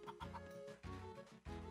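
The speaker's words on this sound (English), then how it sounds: "I don't want to enrage the chicken" Chicken clucking in the game Zelda Spirit Tracks, a run of short, close, repeated clucks in quick succession with no talk over them.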